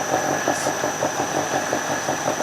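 A small engine driving an asynchronous generator that feeds power to the grid, revving up a little to a steady, even running drone with a faint rhythmic pulse, close and continuous, with no talk.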